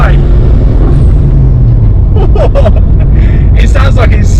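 A Ford Escort RS Cosworth engine idles roughly and sputters with uneven pops and coughs, loud and close, while someone talks over it.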